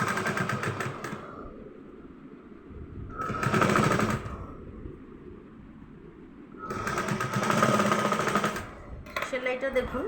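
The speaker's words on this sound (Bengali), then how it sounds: "তাহলে আমি সেলাইটা করে নিই।" A sewing machine stitches fabric for a teddy bear. Two close bursts of rapid mechanical whirring, one short and one longer, sit between quieter gaps of low rumble, with more stitching starting up at the end.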